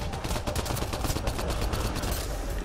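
Rapid automatic gunfire in the video game Mass Effect Andromeda, a dense, continuous burst of loud shots that fills the whole moment without a pause.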